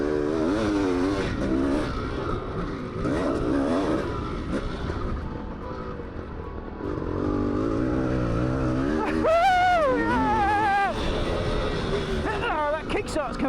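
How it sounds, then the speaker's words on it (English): A 45-year-old big-bore two-stroke dirt bike revs and blares as it is ridden hard around a track, its engine note rising and falling continuously while someone talks over it. "I was finally having fun on board my 45-year-old big bore two-stroke"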